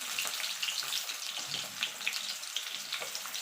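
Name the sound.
potatoes frying and being stirred in a pan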